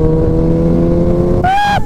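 A Suzuki Hayabusa motorcycle rides fast through Tokyo at night. A loud, steady engine drone gives way to a sharp rising whine near the end, heard up close with no talk.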